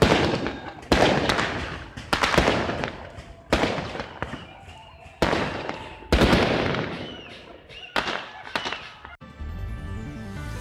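Sharp gunshots crack out one at a time at a funeral, at roughly regular intervals, about seven in a row, each echoing briefly before the next.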